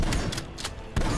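Minigun fire in the Call of Duty Black Ops Cold War campaign: loud, dense bursts of rapid shots that pause briefly, then resume hard near the end.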